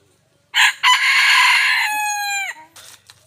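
A wild junglefowl rooster crows once, loud and close, a full harmonic call that rises and holds before dropping off sharply, followed by a few faint clucks.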